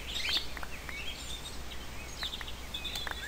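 Bird chirps sound in a Minecraft Crazy Craft game world: a few soft, brief tweets and whistles over a quiet ambient hiss, somewhat distant and with no talking.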